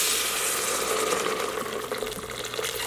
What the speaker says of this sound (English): Let's pour some boiling water over it.